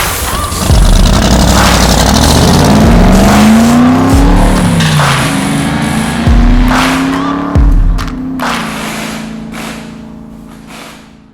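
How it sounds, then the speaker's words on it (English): A 440 big block V8 pulled from a motorhome fires up on a run stand, loud and close, its revs repeatedly climbing and dropping in rough blips before easing toward idle. "we're going to be firing up the 440 big block that we yanked out of a motorhome"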